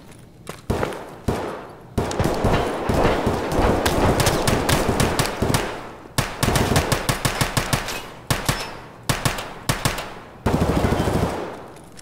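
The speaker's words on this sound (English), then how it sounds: "Is that you shooting at me?" Automatic gunfire rattles in Escape From Tarkov, in rapid bursts separated by short gaps, loud and close, with no talking over it.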